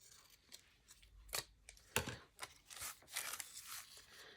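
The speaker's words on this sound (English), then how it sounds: "Oh, I can cut this straight." Scissors snip through paper for a collage on a Masonite board, a handful of short, crisp cuts spaced irregularly, close and fairly quiet.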